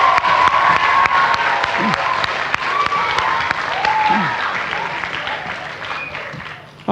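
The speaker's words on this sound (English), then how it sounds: "So let's give our friends another round of applause, please." An audience at a middle school choir and strings concert applauds, a dense and sustained wash of clapping that fills the room and fades slightly toward the end.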